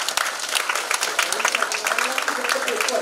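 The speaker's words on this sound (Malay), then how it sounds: "Kita berilah tepukan untuk wanita." An audience at a university launch ceremony in Malaysia bursts into sustained applause for women, a broad wash of many hands clapping with the crowd murmuring underneath.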